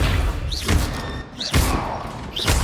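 Accio summoning spell cast in the video game Hogwarts Legacy: three bursts of whooshing, thudding magic, each with a rising tonal sweep, spaced about a second apart and fairly loud, under a continuous game soundscape.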